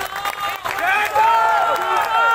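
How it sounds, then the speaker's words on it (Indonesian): A crowd at an Indonesian religious gathering applauds and cheers for the chairman, a brief swell of clapping mixed with raised voices that stays lively to the end. "Tepuk tangan untuk Ketua Umum kita."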